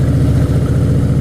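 A motorcycle's engine drones loud and steady as the rider filters through traffic past a taxi, a continuous low rumble with no talk.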